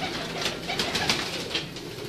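A flock of breeder pigeons coos in a soft, continuous murmur of overlapping calls, close by and steady throughout the short stretch.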